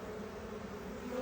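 Honey bees hum steadily at a beehive during a hive inspection, a soft continuous buzzing with no voices.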